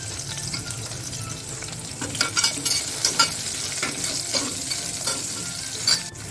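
Onion frying in oil with cumin, mustard seeds, curry leaves, garlic and green chillies, a steady moderate sizzle with scattered spoon clicks and stirring scrapes against the pan.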